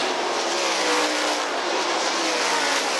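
World of Outlaws sprint cars roar continuously around the dirt oval at Volusia Speedway Park, a dense, loud, unbroken engine howl with no pause.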